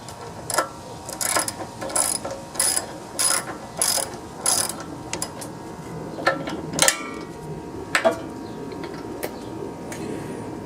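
Ratchet wrench tightening a spark plug on a power washer, a run of about six loud, evenly spaced clicking bursts followed by a few sparser clicks, close up with no talk.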